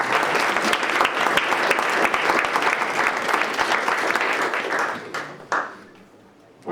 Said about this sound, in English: Ladies and gentlemen, can we have a nice round of applause?